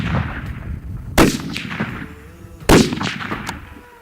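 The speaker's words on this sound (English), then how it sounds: "I'm gonna shoot a 3-shot group and then I'm gonna adjust" A Snowy Mountain rifle firing while zeroing for a Colorado mule deer hunt: two sharp, loud gunshots about a second and a half apart, each followed by a rolling outdoor echo.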